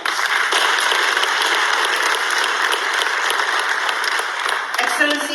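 Audience at a high-level forum on South-South and triangular cooperation in Sierra Leone breaking into applause, a loud, even wash of many hands clapping that fills the clip without letup.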